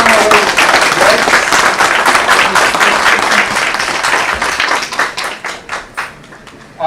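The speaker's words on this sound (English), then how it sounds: "Please have a big round of applause to welcome our guests." Conference audience at ICMPHQL 2022 claps loudly to welcome guests, sustained dense applause that thins into scattered individual claps before stopping.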